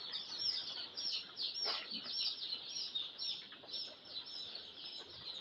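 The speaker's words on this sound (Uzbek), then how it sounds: "900 ta qora jo'jamiz bor" Poultry flock of chicks and hens on a farm holding 900 black chicks, heard as a dense, continuous chorus of high cheeping with scattered clucks, moderately near and steady throughout.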